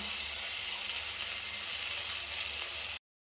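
Asafoetida, dried red chillies and curry leaves crackle and sizzle in hot oil, a dense, steady, close hiss lasting about three seconds before cutting to silence.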